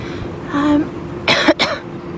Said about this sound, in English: I've also got a cough, quite a bad cough